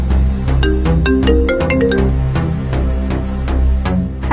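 A mobile phone rings for an incoming call with a loud, continuous melodic ringtone that repeats its bright, rhythmic tune steadily throughout, with no talking.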